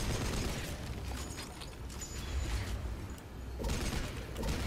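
Dense, rapid gunfire and bursts from the action video game Blades of Time, loud and continuous with overlapping explosive pops and booms, with no talking.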